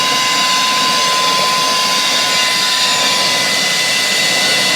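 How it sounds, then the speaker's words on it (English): Air blasting out the ports of a Saker 3-in-1 vacuum gadget, a loud, steady, hissing rush with a faint tonal whine, continuous and close without talk. "blowing out the other two ports, which will dry up all the alcohol and stuff"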